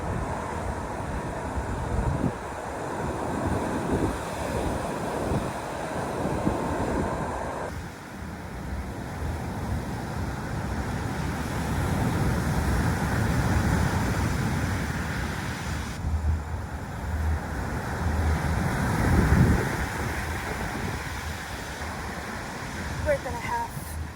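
Surf washing onto a Cancún beach mixed with steady wind buffeting the microphone, a continuous broadband roar that swells and eases over the whole stretch, with some talk under it.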